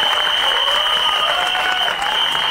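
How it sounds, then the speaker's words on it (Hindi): An audience at a film teaser launch event applauds in a dense, continuous wash of clapping, with a steady high whine running underneath. "तो क्या आप अपना प्यार और अपना हौसला इन्हें देंगे तालियों के जरिए?"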